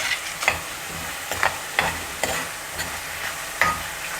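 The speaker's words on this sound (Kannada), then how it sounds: "ಈಗ ಇದಕ್ಕೆ ನಾನು ಬಟಾಣಿ ಹಾಕ್ಕೊಳ್ತಾ ಇದ್ದೀನಿ." Frozen peas sizzling in hot oil and masala in a pot, with steady frying hiss broken by several sharp scraping stirs of a spoon, close and moderately loud, no voices.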